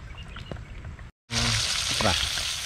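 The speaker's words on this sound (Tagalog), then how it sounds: "piprito na po natin lagyan natin ng mantika to" Tilapia frying in cooking oil, a loud steady sizzle with crackling bursts that jumps in after a brief silence, with faint voices in the background.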